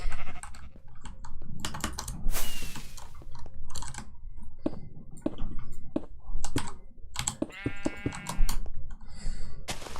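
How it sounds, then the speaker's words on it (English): Sheep in a Minecraft-style building game bleat in a short wavering burst, heard among dense clicking of a computer keyboard and mouse. "Meh to you too, sheep."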